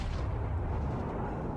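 Battleship Kongo's main guns firing in World of Warships, a heavy low rumbling boom that rolls on and decays across the moment, with no talk over it.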